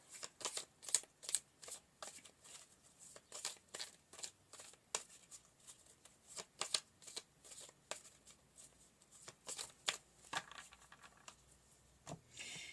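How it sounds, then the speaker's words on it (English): A deck of tarot cards is shuffled close up during a weekly reading, with quiet repeated riffling and soft slapping bursts in an irregular rhythm over roughly a dozen seconds, with no voices. "let's pull some more cards"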